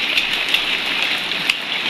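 Heavy rain pours down in a dense, steady hiss with occasional sharper drop impacts, loud and unbroken with no voices.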